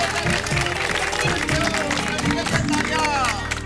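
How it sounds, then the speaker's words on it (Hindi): Loud, dense clapping from a residential society crowd gathered for a World Environment Day cleanup, mixed with background babble, steady and sustained across the whole stretch. "इसलिए आप सब अपने लिए जोरदार ताली बजाइए।"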